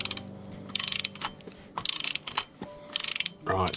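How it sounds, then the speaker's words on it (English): A torque wrench ratchets as it tightens a frame protector bolt on a KTM 1290 Super Duke R motorcycle, close-up bursts of rapid metallic clicking that repeat in several short strokes with brief pauses between. "let's drop that one over for the torque wrench"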